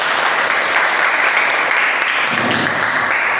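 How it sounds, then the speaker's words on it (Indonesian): A classroom audience claps steadily for a student after a class presentation, a dense, even applause that carries on throughout. "Kita tepuk tangan buat dia."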